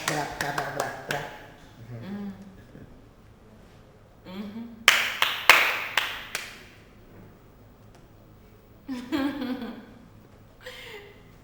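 Several bursts of sharp hand clapping ring out between stretches of singing and talking, the claps coming in quick rhythmic clusters.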